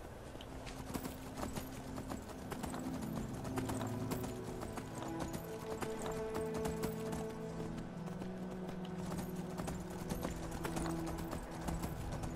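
Steady clip-clop of horse hooves at a quick, rhythmic gallop in Skyrim, fairly close, with a brief whinny and a game-like background hum underneath.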